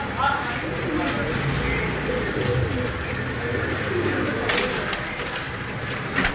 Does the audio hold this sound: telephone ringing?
no